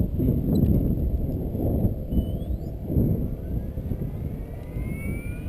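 A radio-controlled Logo 600 helicopter starting up gives a steady, close low rumble with a thin whine rising in pitch toward the end.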